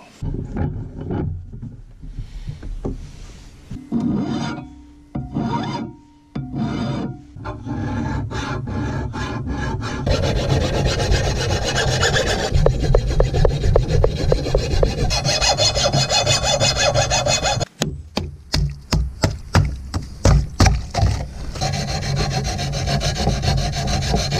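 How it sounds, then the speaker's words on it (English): A bearded axe edge is sharpened by hand with no power tools, giving steady scraping, rasping strokes that start as short separate passes, then merge into a long continuous grind before settling into quick, regular back-and-forth rubbing, close and loud with no talk. "I'm going to go ahead and put an edge on this"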